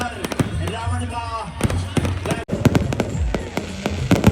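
Fireworks crackle and bang repeatedly at an outdoor Dussehra celebration with a Ravana effigy, sharp bursts in quick irregular succession close by while someone commentates loudly over the noise.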